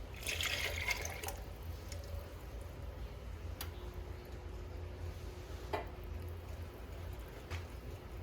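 Milk is poured into a pot of cream of crab soup seasoned with Old Bay, giving a faint, quiet liquid splash and trickle with a few soft clinks, heard alone at low level.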